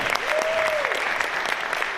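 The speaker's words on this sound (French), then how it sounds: "on applaudit Bilal quand même pour tout ce qu'il vient de faire là" A crowd at the Eloquentia Bordeaux contest final applauds a participant named Bilal, with sustained close clapping and a brief whistle-like tone rising and falling over it.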